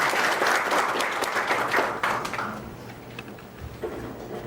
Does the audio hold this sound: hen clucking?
no